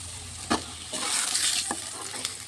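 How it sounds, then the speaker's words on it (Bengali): Potatoes frying in oil in a wok, a steady broadband sizzle with a few sharp stirring scrapes and clinks over it, close and moderately loud with no talking. "কড়াই বয়াই দিলাম পরিমাণ মতো তেলও দিয়ে দিলাম দিয়া আলুটা ভালাই দিলাম তেলের মধ্যে"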